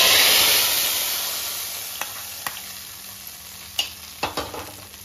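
Ghee-roasted ingredients poured into moong dal and jeera rice payasam, a loud sizzle that fades steadily over several seconds, then a few light clinks and scrapes of stirring.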